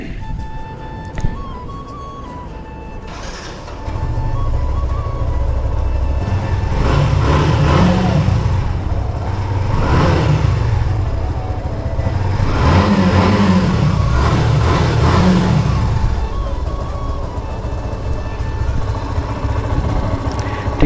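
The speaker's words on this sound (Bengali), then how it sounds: "ঠিক একটা সাউন্ড আছে, সাউন্ড শুনলেই বোঝা যায় ইঞ্জিনের।" A Yamaha FZs v2 motorcycle engine starts and revs repeatedly at close range, rising and falling in several throttle blips over a steady idle, with no talking.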